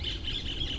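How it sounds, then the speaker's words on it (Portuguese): A small bird sings close by in a short burst of high, repeated chirping tweets, carrying on steadily with no one speaking. "Olha o passarinho cantando, que coisa bonita."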